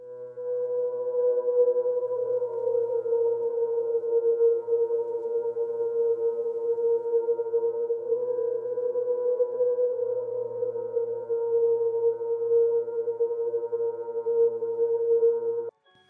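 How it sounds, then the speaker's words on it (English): A smooth ambient synth pad from the Serum preset Pad Plume holds a steady, soft chord for about sixteen seconds, even and alone, then cuts off abruptly. "For the next part, I added a synth pad just to make it sound ambient,"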